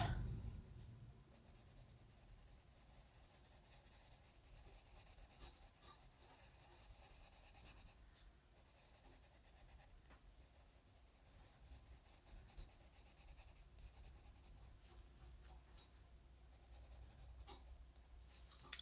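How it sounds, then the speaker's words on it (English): Colored pencil burnishing and blending on paper in small circles, a faint, steady, soft scratchy rubbing that continues quietly throughout with no talk. "I'm going to use small circles and just burnish and blend everything together."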